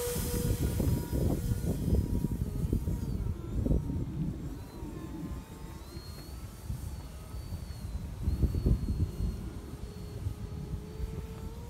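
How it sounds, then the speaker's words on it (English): A small RC airplane built from a Pringles chip can, flying outdoors in wind, gives a steady motor drone with strong low rumble and wind buffeting throughout, swelling louder at moments. "here we go for flight two of the Pringles plane"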